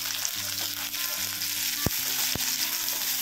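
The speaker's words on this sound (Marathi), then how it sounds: "कांदा थोडा मऊ होईपर्यंत आपल्याला परतायचा आहे, कांद्याचा कलर चेंज होऊ द्यायचा नाही आपल्याला।" Finely chopped onion and curry leaves sautéing in hot oil with garlic in a pan for a brinjal-potato vegetable dish, giving a steady close sizzle with two sharp stir clinks partway through.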